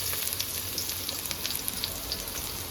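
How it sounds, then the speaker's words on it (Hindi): Chopped garlic sizzling in hot oil in a pan while it browns, a steady crackling fry with scattered sharp pops, close and even throughout. "इसमें मैं डालूँगी ये लहसुन, इसको मैं थोड़ा गोल्डन ब्राउन करूँगी।"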